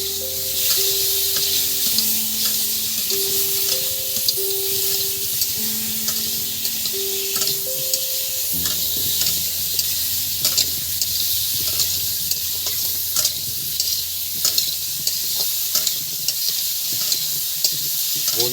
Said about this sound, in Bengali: এবার আলুগুলো দিয়ে দিচ্ছি বন্ধুরা